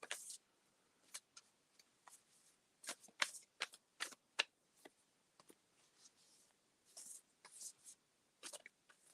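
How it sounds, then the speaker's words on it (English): A deck of cards being shuffled for a full moon reading makes quick, crisp riffles and soft slaps in uneven bursts, close and fairly quiet, with long pauses between them and no voices. "I'm shuffling for Laura right now"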